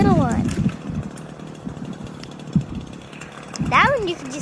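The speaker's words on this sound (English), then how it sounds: "It's a little chainsaw." A small chainsaw cuts into a maple tree, its rough buzzing snarl running steadily under close voices that talk over it.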